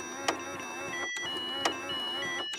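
Ringtone from a digital alarm clock, an electronic melody repeating in loops of roughly 1.4 seconds with brief bright accents, steady and close, with no other sounds.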